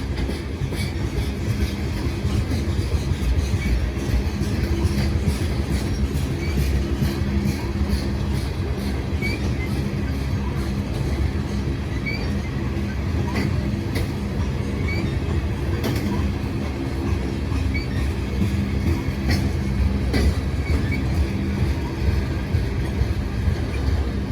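A freight train with covered hopper cars rumbles steadily past near Dayton, Ohio, loud and continuous, with rhythmic clacking of wheels and faint metallic squeals throughout.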